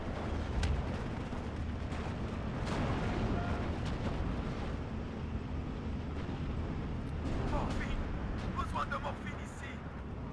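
Steel Division 2 artillery barrage on a position, a steady stream of distant booming impacts and crackling blasts under continuous battle rumble, with someone talking over parts of it.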